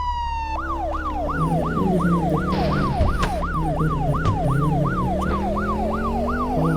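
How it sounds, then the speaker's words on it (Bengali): A police car siren in a video game wails continuously in a rapid rising-and-falling yelp, loud and steady over a constant engine drone. "আমি পুলিশের গাড়ি আসছে"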